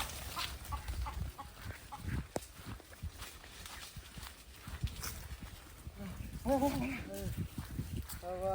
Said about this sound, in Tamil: முரட்டு கோழியா இது?